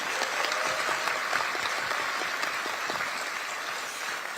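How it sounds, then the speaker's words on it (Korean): Steady audience applause at a Korean political party meeting in Gyeonggi Province, a dense even patter of many hands clapping throughout, moderately loud and unbroken. "우리 정청래 당대표님과 지도부에 큰 박수 다시 한번 부탁드립니다."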